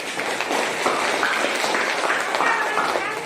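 A classroom of students gives a round of applause during a geometry lesson, a dense burst of clapping with children's voices mixed in.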